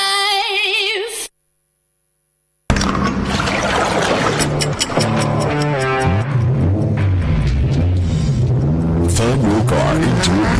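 A car engine revs loudly and steadily for a petrol advertisement, its pitch climbing and dipping under music. A short gap of silence comes before it, and no one speaks.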